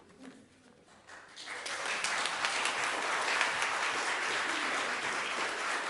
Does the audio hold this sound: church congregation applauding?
yes